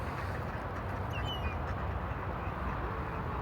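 Ducks quack at Fort Borst Park during bird feeding, scattered calls over a constant wash of outdoor background noise.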